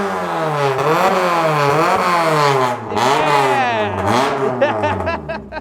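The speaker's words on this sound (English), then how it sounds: "But what really makes a Kanjo Civic? The exhaust!" A Kanjo-style Honda Civic exhaust revs hard and loud up close, its pitch sweeping up and down in repeated rising pulls, then drops into a choppy, crackling idle near the end.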